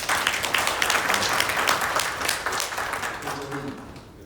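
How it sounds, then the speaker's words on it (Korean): Audience applause fills a lecture hall for the whole stretch, a dense, steady wash of clapping that gradually thins toward the end. "그냥 박수 한번 쳐주십시오."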